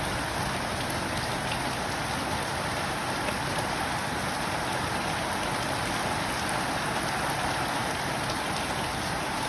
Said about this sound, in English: It's raining in Upper Hunter and Lower New England, Australia.